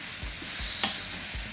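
Curry chicken is stirred in an electric skillet, a steady sizzle of frying with a few soft scraping strokes of the utensil across the pan.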